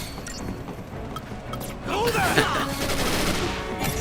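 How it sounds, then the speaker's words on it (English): A hand grenade going off in the video game Final Fantasy 13, a loud burst of blast and crackle swelling midway through amid busy battle effects. "Good old hand grenade. When in doubt, blow him up."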